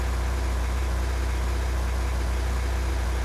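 Steady low engine drone of a car idling in the Roblox storm-chasing game Twisted, constant and fairly loud with no variation or talk over it.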